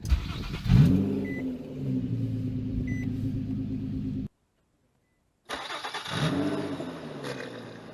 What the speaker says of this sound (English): Gonna start the car for 20 seconds and